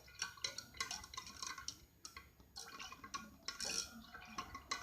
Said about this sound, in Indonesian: Lalu kita aduk kembali.